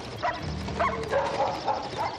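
Dogs bark in several short, moderately distant yips and woofs, spaced about half a second apart, without talk.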